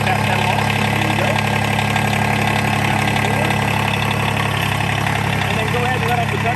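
A hydrostatic-transmission tractor engine runs at a steady, loud idle with a constant low droning hum and vibration throughout, and a voice talks faintly over it.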